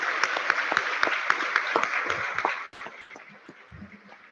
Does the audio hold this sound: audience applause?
yes